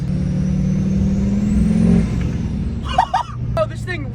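A Duramax diesel pickup truck engine, warmed up and idling, gets a short blip of throttle, its steady diesel drone swelling briefly before settling back. A voice is heard briefly near the end.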